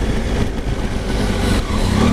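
A 2019 Triumph Tiger 800 XR adventure-touring motorcycle engine while riding, a loud, sustained engine drone mixed with rushing wind, steady through the short stretch.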